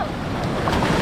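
Choppy sea waves wash at Freedom Beach in Phuket, a loud continuous surf roar with wind buffeting the microphone close by.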